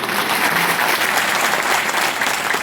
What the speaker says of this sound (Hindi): मैं चाहता हूं एक बार खोल के तालियां बजा लें आप